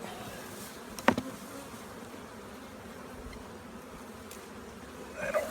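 Honeybees hum at an open hive during a beekeeping inspection, a faint, continuous low buzz close by with a couple of brief sharp knocks.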